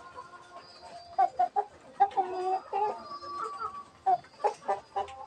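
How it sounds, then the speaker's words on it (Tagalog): A young Rhode Island Red cross rooster clucks and makes short, broken crowing attempts in a quiet farmyard, with several bursts in a row. "tandang ko agaw, tumitilaok na po ito"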